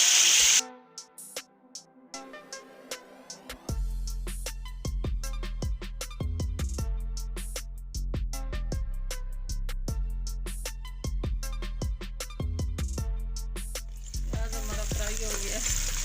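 Chopped onions hit hot oil for a Pakistani-style masoor dal and spinach sabzi, bursting into a loud, steady sizzle partway through, with clattering spoon strokes stirring the pan.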